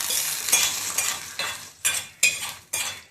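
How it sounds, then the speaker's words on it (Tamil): Ground paste being stirred into rasam in a pot, a spoon scraping and swirling in several distinct pulses with wet sloshing, close and fairly loud, no talking. "போட்டு நல்லா கலந்துட்டு ரசத்துக்கு வந்து தாளிச்சு வச்சிருக்கேன் இல்லையா, அதையும் இதுல போட்டுருவோம்."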